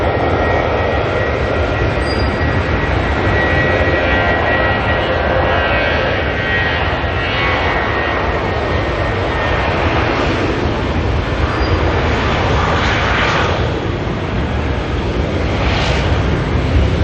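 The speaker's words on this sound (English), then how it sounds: "Qantas Mendawuri livery making its way down the taxiway there" An airliner in Qantas Mendawuri livery taxis along a taxiway at Auckland Airport, giving a steady, loud broadband engine roar and whine that runs without a break and carries no talk.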